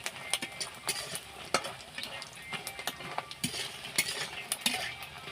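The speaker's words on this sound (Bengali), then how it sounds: "বড়িগুলো সুন্দর করে দেখো তেলে কিন্তু লাল লাল করে ভেজে নিচ্ছি।" Lentil dumplings (bori) fry until reddish in oil, with a quiet continuous sizzle broken by frequent sharp scrapes and taps of a spatula against the pan.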